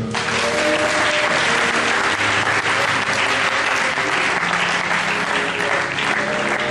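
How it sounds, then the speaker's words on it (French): A church congregation claps together in sustained, dense applause, loud and even from start to finish with no break. "Acclamons le Seigneur"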